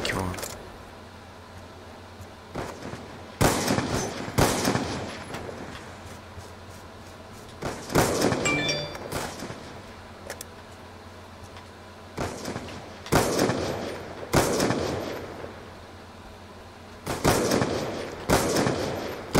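Gunfire in a one-on-one Call of Duty Black Ops 2 match, several separated clusters of shots spread across the clip with quieter stretches between them, while people talk.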